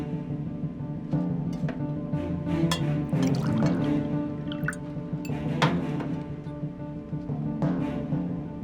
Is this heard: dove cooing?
no